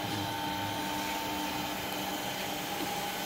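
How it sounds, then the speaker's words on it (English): A three-phase induction motor hums steadily at a constant pitch as load is added, a continuous close mechanical drone with no voices. "So now the motor is running under normal condition."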